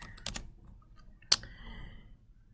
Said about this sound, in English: I'll go ahead and just type in Smarty Ants.